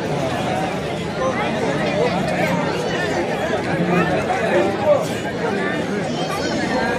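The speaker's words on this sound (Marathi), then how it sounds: "वापसी गर्दी।" Dense crowd chatter at a busy gathering of devotees in Achara, Konkan, near the rickshaw stand: many overlapping voices forming a steady, close hubbub throughout.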